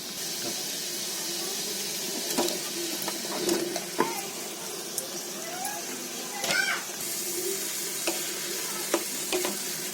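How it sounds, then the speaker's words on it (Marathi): Mushrooms go into a boiling pan and get stirred, with a steady bubbling sizzle and scattered scrapes and knocks of a spoon against the pan, close and moderately loud, no talking. "आता याला चांगली उकळी आली बघा. आता याच्यामध्ये मशरूम टाकते."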